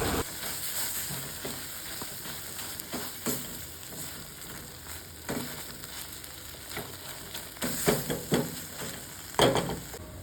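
Egg and tomato frying in a pan over a medium gas flame, a soft continuous sizzle with a spatula stirring and scraping at intervals, fairly quiet and without voices.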